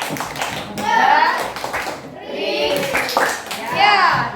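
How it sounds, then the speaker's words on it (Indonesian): A class of children performs a cheerful call-and-response clapping chant, bursts of claps mixed with their chanted voices, loud and close, in a short rhythmic run. "Tepuk ceria"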